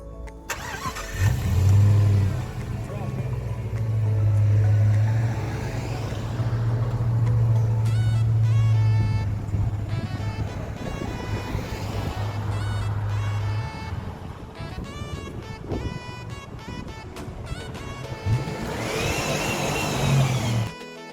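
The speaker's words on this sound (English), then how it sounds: "driving all the way up to the top" An off-road vehicle climbs uphill in Rakitnica Canyon, its engine droning low and steady with swells in load, then easing off as other sounds take over toward the end.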